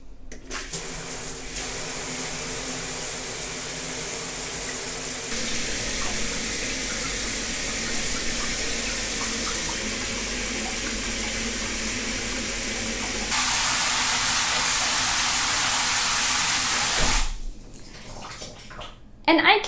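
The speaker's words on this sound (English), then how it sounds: "why I am using the shower to fill in our bathtub" Water from a shower head pours into a Japanese bathtub in a continuous loud, hissing rush that changes tone slightly partway through and stops abruptly near the end.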